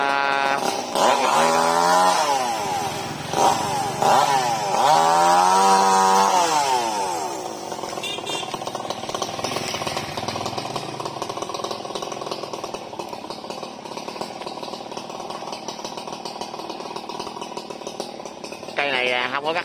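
A chainsaw cutting branches from a hoa sữa (blackboard) tree among power lines revs loudly, its pitch rising and falling as it bites into wood, then settles into a steady droning idle.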